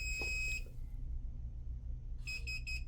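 A few short electronic console beeps signalling error code E2 in a quick burst near the end, after an earlier brief tone, over a steady low hum.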